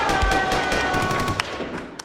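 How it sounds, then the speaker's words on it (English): Gunshots sound effect, a rapid burst of sharp cracks and thumps in quick succession, fairly close and alone, with no talk over it. "Gunshots."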